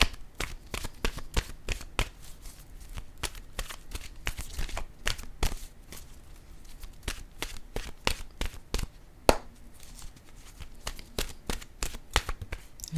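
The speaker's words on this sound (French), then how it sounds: "je vais piger une nouvelle carte de mon oracle" Oracle cards being shuffled and drawn by hand, a fast run of crisp riffling snaps and taps, close and fairly quiet, steady throughout with no talking.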